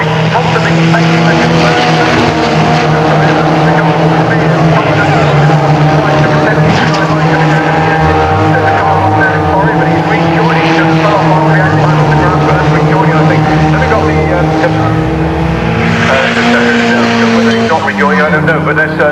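F3 and GT race cars howling past at Castle Combe circuit, loud continuous engine roar with rising and falling pitch as cars pass in succession, a commentator talking over the top.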